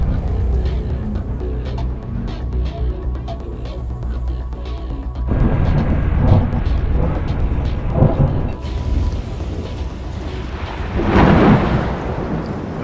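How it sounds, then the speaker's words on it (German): Deep rolling thunder rumbles on and off over steady rain noise during a bike ride near the Bannwaldsee in Bavaria, with a louder swell near the end. "dann fing es an zu regnen, dann zu donnern"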